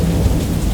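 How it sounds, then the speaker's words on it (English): Dense, steady rain falls with a low rumble of thunder underneath, a loud continuous wash of patter with no voices, heard briefly. "There was something comforting about the soft drumming of occasional raindrops on the fabric above my head."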